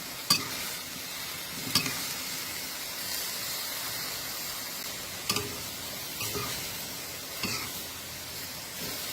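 Vegetables are stir-fried in a pan under a constant, close sizzle, with a spatula knocking against the pan now and then in sharp, irregular clacks.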